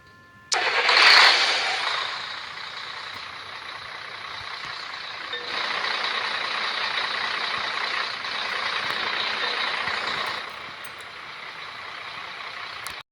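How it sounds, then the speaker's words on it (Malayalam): A truck engine in a mobile truck driving game cranks and fires loudly, then settles into a steady idling rumble for several seconds before cutting off, with no talk. "നല്ല അടിപൊളി ശരിക്കും നമ്മുടെ ട്രക്കൊക്കെ സ്റ്റാർട്ട് ആക്കുന്ന സൗണ്ട് അത്യാവശ്യം നല്ല രീതിയിൽ ഒറിജിനാലിറ്റി ഉണ്ട്"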